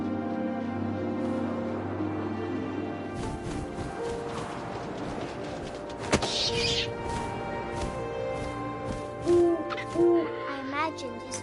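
An owl hoots a few times in the video game What Remains of Edith Finch, set over a steady wind-like ambient bed with a bright swell partway through and some soft rustling.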